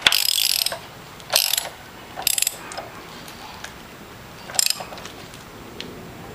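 A ratchet tightening an engine mount bolt on a Saturn S Series car, heard as several short, loud clicking bursts separated by pauses, alone with no talking.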